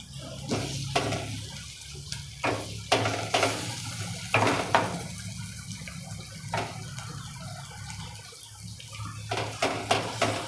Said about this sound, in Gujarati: મસાલા બધા મિક્સ કરી દઈએ